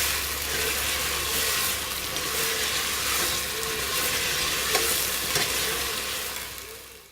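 Mutton browning in a pan with ginger-garlic-chili paste hisses with a loud, steady sizzle, while stirring adds bursts of scraping and spatter that fade out at the end.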